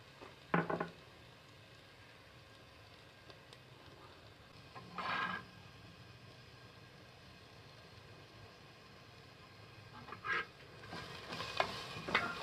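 Onions frying over low gas in a clay pot for chicken curry, with a soft steady sizzle broken by a few brief scraping stirs at the start, middle and end; no talking.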